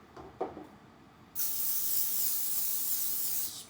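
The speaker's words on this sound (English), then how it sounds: "So I'm just gonna spray it down as it's like smoking" Cooking spray blasted onto a hot waffle iron that is making chili and cornbread waffles: a couple of faint clicks and taps, then one steady, close hiss lasting about two seconds before cutting off.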